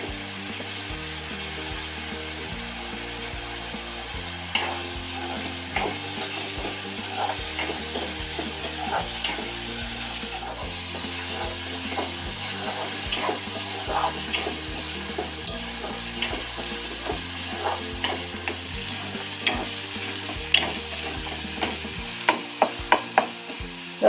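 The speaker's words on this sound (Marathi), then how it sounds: "सगळा मसाला छान तळला बघा." Coriander, garlic and ginger masala paste fries in a pan for a Maharashtrian brinjal and field bean dish, a steady sizzle with repeated sharp spatula scrapes and knocks that grow louder toward the end.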